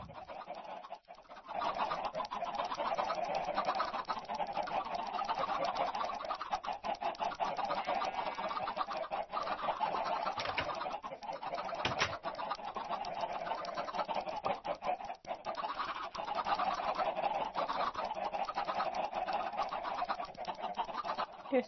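A flock of Minecraft chickens, many of them baby chickens, crowd together in a pen in the video game. Their steady, overlapping clucks continue at an even level throughout.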